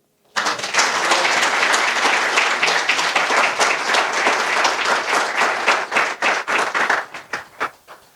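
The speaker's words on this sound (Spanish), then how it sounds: "Den un aplauso al Señor." A church congregation at a Spanish-language service applauds loudly and continuously, a thick crowd of clapping that thins toward the end into a few scattered, distinct claps before fading out.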